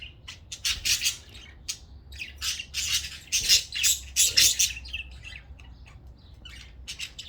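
A pet bird, a newly arrived parrot on its first day, squawks and chirps in repeated loud bursts, close by, with short pauses between calls and no talk.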